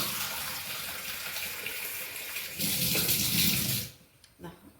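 Water poured over rice for dosa batter runs and splashes steadily for several seconds, swelling louder near the end before stopping abruptly, followed by a couple of faint clinks.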